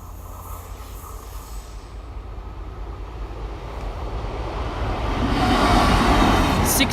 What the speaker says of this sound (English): Anyways, I think I hear this train.